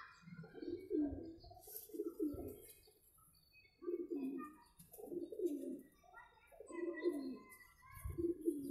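Tower pigeons (sira tower breed) at a home loft give repeated low, throaty coos in rhythmic bursts, close and moderately loud, with faint chirps and background noise between phrases.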